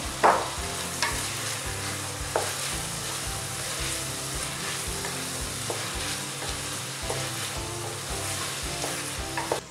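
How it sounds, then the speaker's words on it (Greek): Cherry tomatoes sauté in a pan with a loud, continuous sizzle, with occasional clicks and scrapes of stirring throughout. "Τώρα ρίχνω τα ντοματίνια, συνεχίζω να τα σοτάρω"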